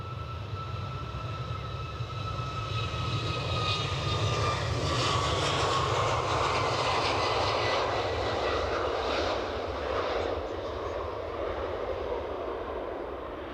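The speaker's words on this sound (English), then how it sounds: "There's our inbound EasyJet." EasyJet airliner's jet engines at Edinburgh airport, a loud sustained roar with a rising whine that swells near the middle and holds steady, with no talking.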